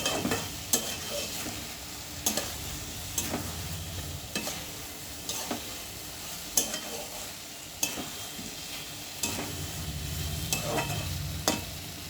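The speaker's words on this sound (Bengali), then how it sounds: "হলুদ লবণ সমস্ত কিছু আমি মশলার সঙ্গে ভালো করে কষিয়ে নিই" A spice paste with turmeric and salt is sautéed in a pan for a paneer and baby corn curry: a soft continuous sizzle, broken by a spoon scraping the pan at roughly regular intervals, about once a second.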